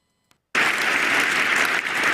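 An audience breaks into applause during a US presidential speech, a sudden burst of dense, steady clapping that starts after a brief near-silence and carries on loudly to the end.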